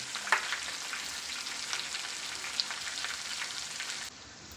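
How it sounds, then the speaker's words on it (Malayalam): Chicken pieces sizzle steadily in hot oil in a pan, a dense continuous frying hiss with a brief clatter of stirring, the sound dropping off abruptly near the end. "അങ്ങനെ തിരിച്ചും മറിച്ചിട്ട് ഇട്ട് നമുക്ക് വേവിച്ചെടുക്കാം"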